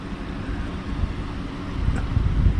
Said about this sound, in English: Breezy with the little waves coming in, sound. You can just barely hear it lapping on the shore.